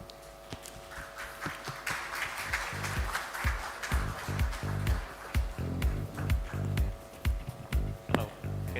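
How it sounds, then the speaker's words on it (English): Applause from an audience at an awards ceremony, a steady wash of many hands clapping with sharp individual claps on top, heard over a sustained musical tone in a large hall. "You already clapped for the people on there."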